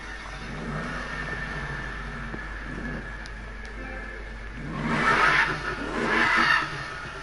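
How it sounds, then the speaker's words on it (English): A car engine in the Need for Speed 2015 video game, idling with a mid-pitched hum before two strong revving surges near the end. "Can you hear the sound of this engine?"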